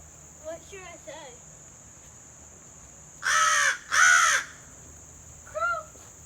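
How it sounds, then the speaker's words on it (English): A crow caws in two loud, harsh, drawn-out calls close by during a September nature walk, with fainter bird calls before and after and a steady high insect or cricket drone throughout. "Crow!"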